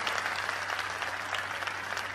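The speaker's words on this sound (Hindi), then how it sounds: "एक बार जोरदार तालियां बजा के आदेशित करो मत" Brief burst of enthusiastic audience applause at a Hindi poetry recital, dense steady clapping from a crowd with no talk over it.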